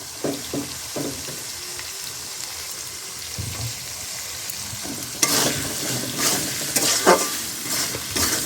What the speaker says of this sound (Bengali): এতে দিয়ে দিচ্ছি সেই আদা আর রসুনটা যেটা বেটে রেখেছি সেটাই দিয়ে দিলাম